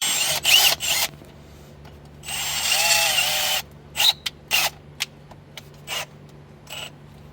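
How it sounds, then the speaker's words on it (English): A handheld power drill in a workshop where a fuel-injected engine is being swapped back to a carburetor, heard in several short bursts and one longer whir, loud and close, with the motor pitch rising and falling between pauses. "I need to buy a new drill, eh?"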